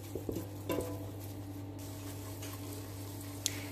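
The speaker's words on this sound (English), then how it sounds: "You can hear it sizzling a bit, so I know that's cooking the flour out." A soft, steady sizzle of flour cooking in a pan on the heat, with a few light scraping stirs near the start.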